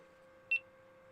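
A single short electronic beep from an action camera, fairly loud and high-pitched, stands out against a steady low hum.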